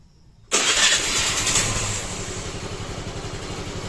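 A Suzuki Access 125 scooter engine catches abruptly after a moment of quiet, revving up loud and close before settling into a steady, slightly lower idle.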